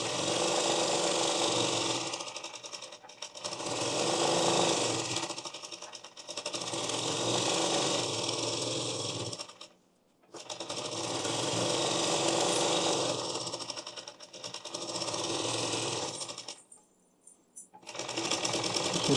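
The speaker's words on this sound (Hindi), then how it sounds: "अब एमा सिलाई मार देते हैं।" Sewing machine stitching a blouse, running in long steady bursts of several seconds each with short pauses between, loud and close with no talk.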